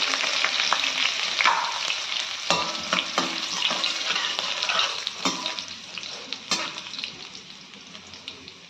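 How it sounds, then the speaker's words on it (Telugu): Garlic and ginger frying with cumin seeds in hot oil for a tomato khichdi, a steady close sizzle broken by repeated sharp scrapes and clinks of a stirring spoon, with no talk. "జీలకర్ర బాగా వేయించిన తర్వాత 1/2 టీ స్పూన్ గార్లిక్ అండి. తర్వాత 1/2 టీ స్పూన్ జింజర్"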